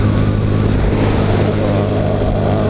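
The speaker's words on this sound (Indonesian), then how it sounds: "jadi maksudnya semaksimalnya gue ngegas aja" A carbureted Yamaha Mio Soul motorcycle at full throttle on a ride from Garut to Bandung gives a loud, continuous engine drone mixed with rushing wind and road noise, steady and close throughout.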